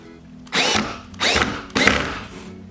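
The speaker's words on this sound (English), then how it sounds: "And then I'm going to screw in the next hole with the drill." A power drill drives a screw into a wall hole for curtain hardware in three short, whining bursts, each rising in pitch, with quiet pauses between them.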